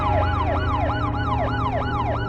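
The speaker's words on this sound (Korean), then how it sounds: "그때 갑자기 뒤에서 사이렌 소리가 들렸다" A loud, close police siren wailing in a fast repeating up-and-down yelp, continuous throughout over a low engine rumble.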